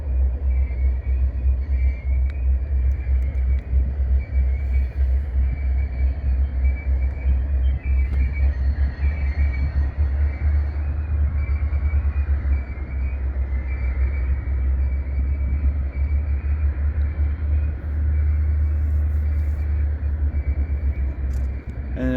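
Freight train cars, just picked up from a cement factory near Ashland, Nebraska, rolling past close by in a continuous low rumble that holds steady and loud throughout.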